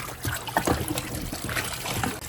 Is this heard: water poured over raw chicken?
yes